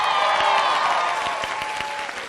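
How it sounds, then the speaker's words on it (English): Live convention audience at a drag comedy show applauding, a dense burst of many hands clapping that stays loud and full for a couple of seconds before easing slightly. "Clap for the editor of our show."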